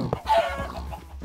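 Chickens in a video game give a quick run of short, close clucks, several bursts within about a second, with no talk over them.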